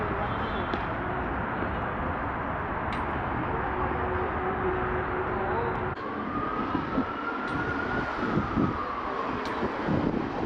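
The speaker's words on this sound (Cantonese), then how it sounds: "好鬼大風。" Strong wind blows across a lake, roaring and buffeting the microphone in a constant, loud rush that never lets up, with a faint passing tone underneath.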